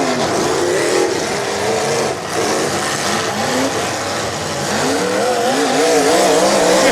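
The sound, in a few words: demolition derby car engine revving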